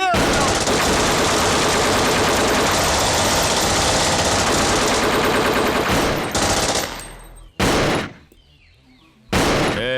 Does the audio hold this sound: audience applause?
no